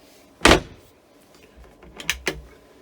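A motorhome cabinet door clicks open with a sharp knock, followed moments later by a couple of quick clacks and a soft rattle from cutlery drawers, close by in a quiet room.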